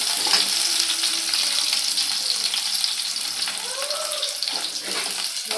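Tomatoes frying in a pan with oil while making a rustic-style garam masala chicken curry, giving a steady broadband sizzle throughout, close and fairly loud, with brief faint tonal bits in the background.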